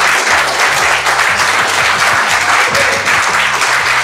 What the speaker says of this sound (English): you deserve another round of applause because you're so amazing